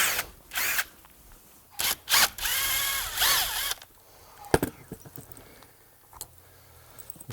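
A power drill removes hinge screws in short bursts of whirring, with one longer run that rises and falls in pitch. Clicks, knocks and handling noises of the hinge hardware come between and after the bursts.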